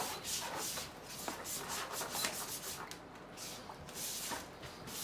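Sandpaper rubs back and forth over a used Mercedes Sprinter steering wheel, a continuous soft scratchy rasp with steady strokes, faint and close.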